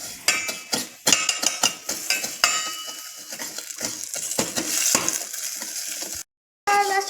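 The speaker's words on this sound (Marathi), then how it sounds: "आता आपण थोडंसं त्यात तूप टाकून घेऊयात" Vermicelli roasting in a pan with ghee, heard as a close, bright sizzle under repeated sharp stirring scrapes and clinks of a spoon against the pan, continuous until a brief silent gap near the end.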